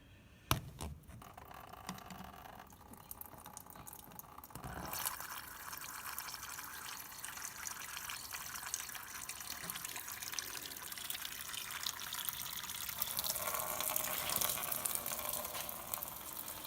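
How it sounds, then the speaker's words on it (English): Coolant from a 2007 Audi A4 2.0L draining in a steady liquid trickle and splash into a container, continuous and fairly close after a brief clunk at the start, with no talking. "start draining the coolant"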